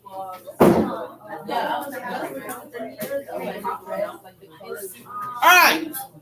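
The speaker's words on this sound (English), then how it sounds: "close the door." A classroom door shuts with one sharp, loud thud near the start, followed by ongoing talk and chatter in the room and a second knocking bang near the end.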